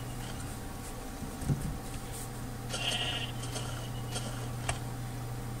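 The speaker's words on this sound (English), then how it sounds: "just the first ever sheep I saw on this island" A sheep in Minecraft bleats faintly over a steady low electronic hum, with a couple of brief clicks scattered through the background and no talking.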